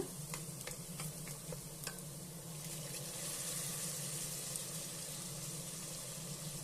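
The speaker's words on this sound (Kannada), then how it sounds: "ಇವಾಗ ನಾವು ರುಬ್ಬಿಟ್ಕೊಂಡಿರೋಂಥ ಬೆಳ್ಳುಳ್ಳಿ ಶುಂಠಿ ಪೇಸ್ಟ್ ಇದಕ್ಕೆ ಸೇರಿಸ್ಕೊಳ್ಳೋಣ" Ginger garlic paste fries in hot oil with browned onions while a spoon stirs, giving a steady close sizzle with a few sharp scraping clicks near the start and no talk.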